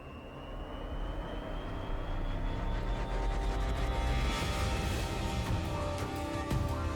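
A drone flies over Palawan, its motor whine a steady, loud drone that holds throughout with a faint rising tonal note.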